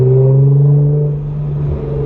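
Nissan GT-R R35 with an Fi aftermarket exhaust burbling at low RPM, a deep steady grumbling drone heard up close and loud, easing slightly in pitch partway through.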